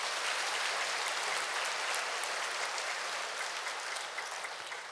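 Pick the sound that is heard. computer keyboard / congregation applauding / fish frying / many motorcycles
congregation applauding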